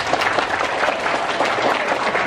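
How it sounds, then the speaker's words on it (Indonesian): An audience at a political rally in Badung bursts into applause, a loud, dense, continuous clapping throughout the short stretch. "Tepuk tangan dulu nih."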